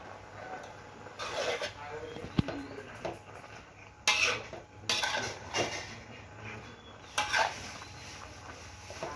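Ginger and wood ear mushrooms stir-fried in a wok for a ginger chicken dish, with repeated scraping and clanking of a metal spatula against the pan and brief bursts of sizzling; a voice speaks over it now and then.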